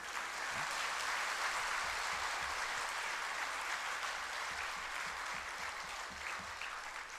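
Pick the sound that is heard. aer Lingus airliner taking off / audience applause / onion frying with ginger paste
audience applause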